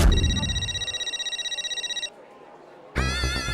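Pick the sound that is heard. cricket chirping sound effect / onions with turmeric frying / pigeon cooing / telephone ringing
telephone ringing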